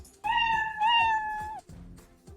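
The Scratch cat meow sound effect played with its pitch raised, two short close meows in a row, clear and alone, followed by faint soft noises.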